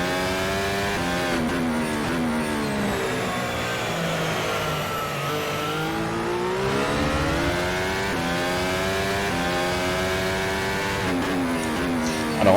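A modern Formula 1 car in the rFactor 2 sim racing game, its engine screaming loud and steady throughout, high harmonics climbing and falling as it revs up and down through gear changes.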